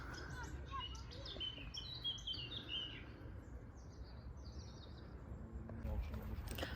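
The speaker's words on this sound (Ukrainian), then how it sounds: "Чуєте, як співають пташки" Birds chirp and twitter faintly in the distance in the mountains, against a low rumble of distant thunder, with quick high calls scattered through the first half.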